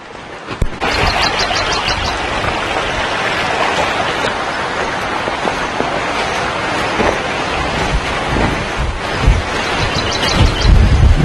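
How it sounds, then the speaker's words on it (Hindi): Steady rushing roar of water falling at Katul Dhola waterfall among rocky hills near Pandhurana, a dense continuous wash of broadband noise with no talk. "पानी गिर रहा है"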